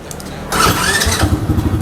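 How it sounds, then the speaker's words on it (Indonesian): A 125cc ATV engine cranks and catches after a brief quiet lead-in, then settles into a close, loud, steady idle rumble with no one speaking. "Kita coba nyalakan dulu mesinnya."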